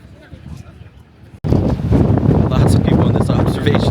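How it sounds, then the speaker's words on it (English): Strong wind blasting across a lighthouse observation deck makes a loud, continuous roaring buffet that starts abruptly and stays heavy, with indistinct voices of the people there half-buried beneath it. "that wind is wild. This is blowing everyone away"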